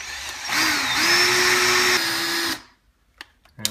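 A power drill with a chrome-coloured bit bores a hole for cabinet and drawer hardware, giving a loud, steady whine for about two seconds that shifts pitch slightly, then cuts off, followed by a few faint clicks.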